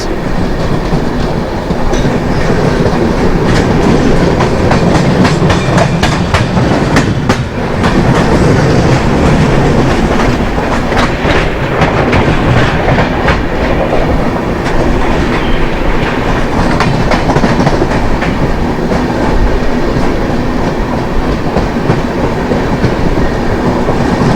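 Kamayani Express from Mumbai LTT to Ballia passing close by, a loud steady roar of wagons with rapid clickety-clack wheel beats throughout, no voices.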